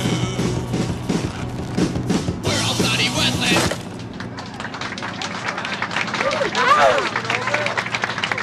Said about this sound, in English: Well, it gets pinched, everybody claps.